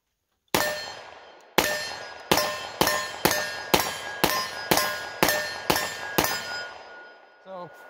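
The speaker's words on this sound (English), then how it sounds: "So I'm going to shoot this with a red dot" Rock Island STK 100 pistol fired with a red dot sight at 10 to 12 yards: ten sharp, loud shots at a steady, slightly quickening pace, each with a metallic clang and a short ringing tail, then a brief clatter after the last.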